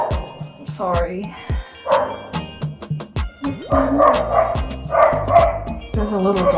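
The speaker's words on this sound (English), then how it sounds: "There's a little dog outside." A little dog barks outside in a string of short, separate yips and woofs, fairly close, with a person's voice talking over part of it.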